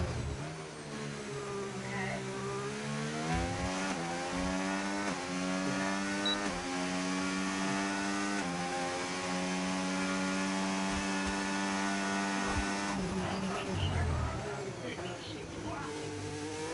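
An Alpine Formula 1 car on a hot lap at the Austrian circuit in a racing game, its engine screaming loud and steady as it shifts up and down through the gears, with a commentator talking over it.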